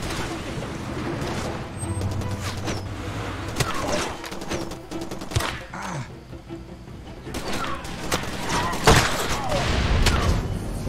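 Gunfire and explosions in the video game Far Cry 2: scattered bursts of shots and dull booms with sharp cracks in between, mixed with someone talking.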